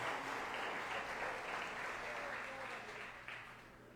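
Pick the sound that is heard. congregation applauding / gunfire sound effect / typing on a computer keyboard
congregation applauding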